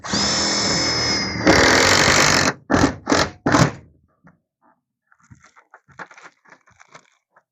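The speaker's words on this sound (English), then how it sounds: "Go ahead and finish screwing it down." A power tool drives screws during a van rooftop install, a loud sustained whir followed by three short sharp bursts, then quiet scattered clicks and handling noises.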